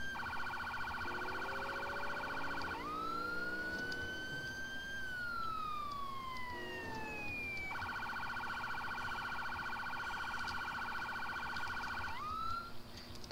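A loud police siren in a Grand Theft Auto San Andreas police mod, modeled on Rio Grande do Sul military police, alternates between a fast pulsing yelp and long rising-and-falling wails, sounding close and steady throughout.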